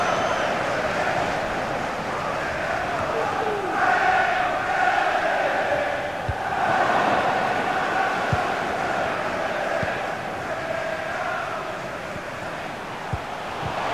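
Stadium crowd in FIFA 23 roaring and cheering in waves for Lionel Messi, a steady loud mass of voices rising and falling throughout.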